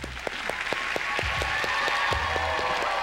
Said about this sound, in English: Y'all make some noise for our host, Mr. Greg Allen Williams.